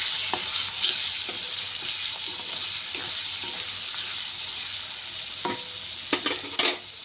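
Mixed vegetables fry in a pan with turmeric, coriander powder and garam masala while being stirred. A constant close sizzle carries scattered spoon scrapes and clicks, which grow sharper and louder toward the end.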